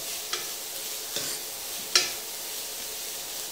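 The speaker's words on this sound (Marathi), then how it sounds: "भाज्या आच मोठी करून फक्त थोड्याशा टॉस करून घ्यायच्या, परतून घ्यायच्या." Vegetables for a lemon coriander soup are tossed and sautéed in a pan over high heat, giving a steady close sizzle broken by three sharp stirring scrapes spaced about a second apart, with no voices.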